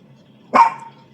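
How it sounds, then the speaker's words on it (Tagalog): A single sharp dog bark rings out close by, one brief bright yap amid a quiet indoor background. "Ayan, tumatahol."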